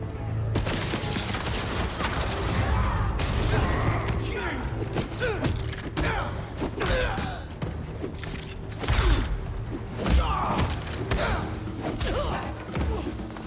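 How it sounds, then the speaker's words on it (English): Repeated bursts of gunfire in the Spider-Man 2 video game, heard as sharp cracks and thuds scattered over a busy, loud mix of impacts and mechanical clatter, with voices speaking at times. "Opening fire!"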